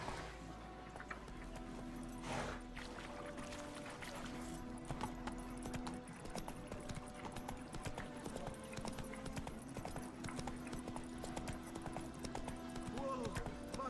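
Roach the horse galloping in The Witcher 3, steady rapid clip-clop of hooves running throughout, with people talking over it.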